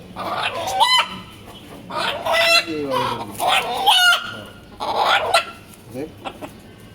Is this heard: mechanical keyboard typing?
no